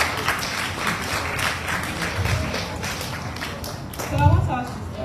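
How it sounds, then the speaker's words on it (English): Audience clapping at a school board assembly for a student named Adanuru, a dense patter of many hands mixed with crowd noise and voices, with a louder burst near the end. "Clap for Adanuru."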